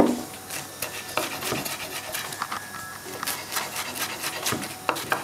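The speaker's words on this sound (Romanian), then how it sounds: "Tăiem și ardeiul mărunt." A kitchen knife finely chopping bell pepper on a wooden board for Romanian potato soup with tarhon, giving a run of quick, close, scraping chops that stay steady throughout.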